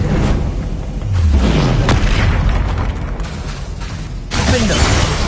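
A Descendo spell slamming into its target in the Hogwarts Legacy video game, heavy booming impacts and crumbling rumbles, loud and close, with chaotic combat effects around them.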